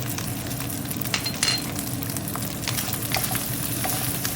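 American-style fried rice sizzles and crackles in a hot pan while being stir-fried, with steady frying hiss and occasional scraping clinks of the utensil, no voices.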